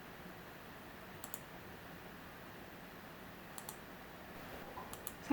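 A few faint, sharp mouse clicks, in two pairs and then a small cluster, against quiet background hiss while a create button is pressed in Unity.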